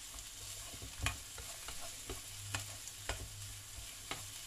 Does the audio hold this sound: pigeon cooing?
no